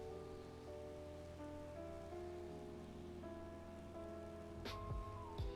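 Faint steady rain patter in Microsoft Flight Simulator, with a droning aircraft engine hum and shifting tones underneath, ending in a couple of sharper knocks.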